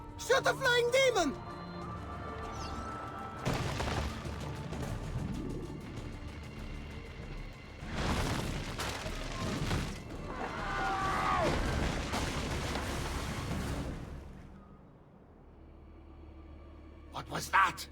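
Bursts of gunfire and booming explosions like firecrackers in an Assassin's Creed 2 cinematic scene, several loud broadband blasts in sequence with voices and background music around them.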